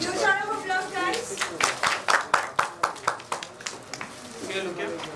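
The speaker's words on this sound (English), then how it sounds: "Huge round of applause, guys." An indoor business-seminar audience claps in a brief burst of applause, about a dozen distinct sharp claps that fade out, mixed with a speaking voice before and after.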